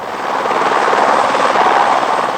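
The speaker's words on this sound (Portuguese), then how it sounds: "Hoje ele guiou o helicóptero mais uma vez, agora para o local onde morava." Steady, loud rotor and engine drone of a helicopter flying over a flood-ravaged area near Friburgo, continuous and close with no talk.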